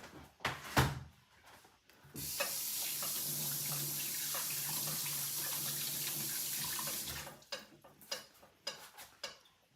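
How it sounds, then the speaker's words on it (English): A kitchen tap runs in a steady, full rush for about five seconds as hands are rinsed under it, framed by brief clinks and knocks before and after. "Rinse my hands off."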